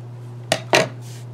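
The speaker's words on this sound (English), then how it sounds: "Before you flip it, I want you to cut the extra fabric off the corners." Two quick snips of scissors trimming extra fabric from the corners of a sewn bowl cozy, close and crisp, with a steady low hum underneath.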